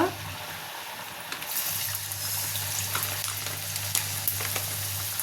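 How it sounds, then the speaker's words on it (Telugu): Gourd vadas (sorakaya garelu) slid into hot frying oil, giving a steady close sizzle and bubbling hiss with small crackles throughout, no talking over it. "అన్నీ ఇలాగే వేసుకోవాలండి నిదానంగా వేసుకోండి నూనెలో"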